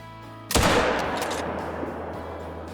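A single loud rifle shot in the hunting game Call of the Wild, heard at about 200 yards of range, cracks sharply and then rolls into a long fading echo with no talk.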